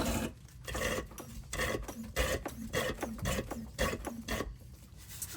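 A hand pump forces fluid into the rear differential of a 2021-or-later GMC Yukon. Close-up, it gives a steady train of rhythmic mechanical rasping strokes, roughly two per second, with no talking.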